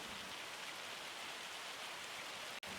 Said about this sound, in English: this is hail, and I think the game must treat it differently